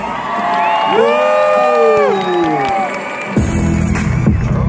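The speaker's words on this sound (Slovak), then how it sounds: "aplauz pre mého DJ-a" Whooping, shouting and cheering from a hip-hop concert audience for the DJ, loud and sustained, rising over sung and musical tones before a beat kicks in near the end.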